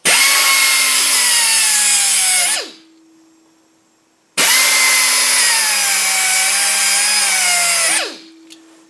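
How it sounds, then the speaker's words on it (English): A multi-tool blade is ground into a scraper blade with a power tool, likely a DeWalt DCS356B oscillating multi-tool, in two loud, steady bursts of about three seconds each that wind down in between, with no talking. "so let's start grinding"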